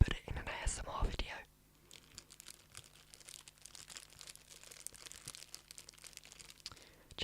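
Crinkly plastic packaging around stationery is handled close up: a loud burst of crinkling at first, then softer scattered rustles and crackles, with quiet whispering.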